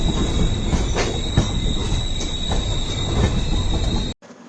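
The Netravati Express rolls into Karmali railway station with a loud, steady rumble, rhythmic wheel clatter and a high sustained wheel squeal, then cuts off abruptly near the end.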